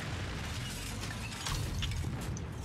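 Tank shell blasts and heavy gunfire from Battlefield 4 on the Giant of Karelia map, a loud, dense rumble of low booms with a swelling burst midway and sharp cracks on top, continuous battle noise throughout.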